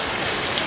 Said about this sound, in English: this is a great waterfall